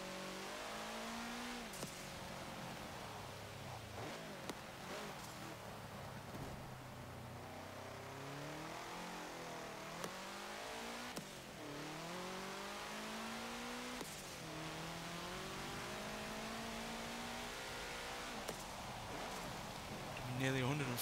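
Engine of a 1967 Volkswagen Type 3 1600 L in Forza Motorsport 7, revving and climbing through gears with repeated pitch sweeps, steady and fairly close, with someone talking over it throughout.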